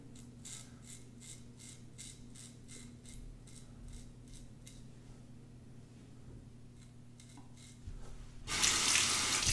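Tap water runs while a Parker SoloEdge razor is rinsed, giving a steady close splash with small metallic clicks and handling noises, then the flow surges louder and fuller near the end.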